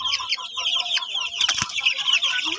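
Crossbreed chicks of a native hen chirp and cluck continuously in a brooder on a Philippine organic chicken farm, a dense, steady chorus with a brief rustle or flap midway.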